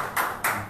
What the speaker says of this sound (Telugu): ఒకసారి అందరం బిగ్గరగా చప్పట్లు కొడుతూ ప్రభు